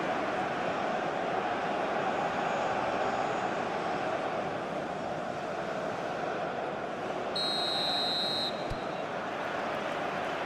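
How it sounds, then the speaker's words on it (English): Referee's whistle in a PES football video game: one shrill, sustained blast of about a second rises late over the constant roar of the stadium crowd. "There's the whistle."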